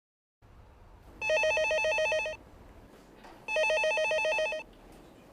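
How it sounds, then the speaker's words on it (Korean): A telephone at a community service center in Jeonju rings in two clear, loud bursts of electronic trilling, separated by a short pause, over a faint quiet background. "오전 9시 26분 전주시 노송동 주민센터로 전화 한 통이 걸려왔습니다."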